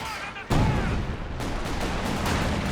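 Heavy mortar barrage in Company of Heroes 2, a sudden loud blast followed by a dense, sustained rumble of explosions and gunfire filling the battlefield.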